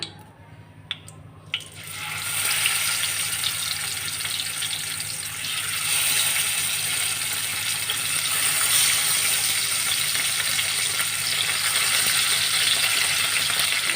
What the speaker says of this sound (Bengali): মাছটাকে ভেজে নেব প্রথমে